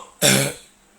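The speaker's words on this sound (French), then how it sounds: "j'ai la toux" A single loud, close cough from a man with a cough bursts out abruptly and then fades, with no talk around it.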